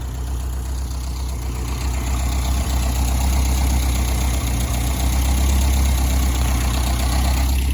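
An abandoned Renault car, run again after nine years of sitting and stalling under throttle, idles steadily with a low rumbling drone and faint ticking, loud and close throughout with no voices.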